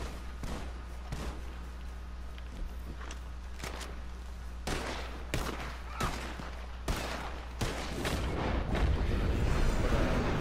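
A shotgun fires again and again in a video game, heavy booming shots at an irregular rhythm, loud and close, growing denser toward the end.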